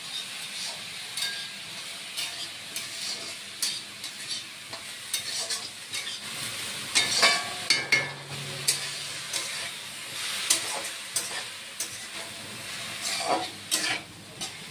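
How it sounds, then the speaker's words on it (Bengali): Oil sizzling steadily as potato and okra fry in a pan, with occasional scraping and stirring clinks, fairly close and continuous without any talking. "আর এদিকে আলু ভেন্ডি ভাজা বসিয়ে দিয়েছি।"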